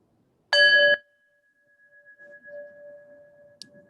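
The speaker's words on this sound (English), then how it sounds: "we're going to ring one more bell" A single bell or singing-bowl tone struck during qi gong practice by the bay, a bright attack followed by a clear ringing tone that slowly fades in a quiet setting.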